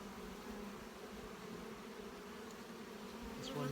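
Steady, dense buzzing of many honeybees up close in an open hive during inspection, a continuous droning hum without pauses.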